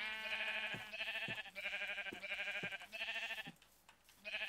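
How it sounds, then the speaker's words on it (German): Repeated sheep bleats from the video game Minecraft, several in a row with a steady rhythm, loud and close, with no talking over them. "Hallo Schaf."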